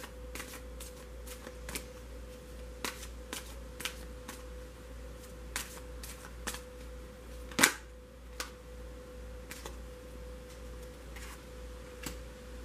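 Romance angel cards are handled and shuffled up close, giving soft, irregular flicks and ticks with one louder snap midway, over a steady low hum in a quiet room.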